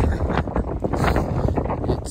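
Strong wind buffets the microphone outdoors beside the Arken Museum in Copenhagen, a steady low rumble with gusty bursts throughout, and a voice speaks over it.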